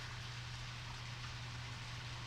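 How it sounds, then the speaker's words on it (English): Rain falls in the video game Deadly Premonition, a faint, steady hiss over a low constant hum, with no talking. "oh my, it's raining!"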